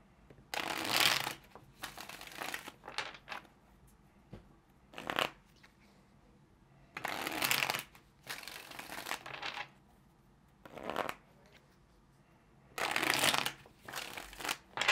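Tarot cards are shuffled by hand in several separate bursts of crisp riffling, each a second or two long, with quiet pauses between them and no talking.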